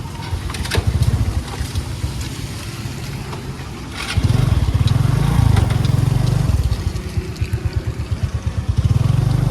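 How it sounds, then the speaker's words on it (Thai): A motorcycle being ridden through a street in Tachileik, Myanmar, its engine a loud, close, continuous low drone with a rhythmic throbbing pulse that swells midway, plus scattered clatter of wind and road. "ก็เรามาด้วยรถมอเตอร์ไซคันนี้นะครับ"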